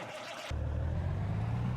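A truck in Farming Simulator 19 starts up with a sudden steady engine rumble, a low droning hum holding constant and close after a brief quieter moment.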